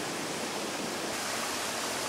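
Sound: waterfalls and small streams in a rainy national park

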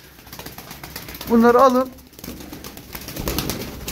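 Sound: pigeons cooing

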